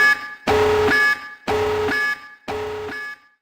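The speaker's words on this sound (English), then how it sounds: "if it's another false alarm, I'm gonna lose it" An alarm blares in three long harmonic bursts, each about half a second to a second, with brief gaps between, loud and close with no talking.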